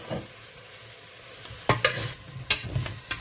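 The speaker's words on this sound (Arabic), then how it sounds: "نطلع اللحمة بعد ما قليناها." Meat for a Lebanese green bean and meat stew sizzles and fries in a pan, with a steady close sizzle broken by several sharp stirring scrapes and bursts toward the end.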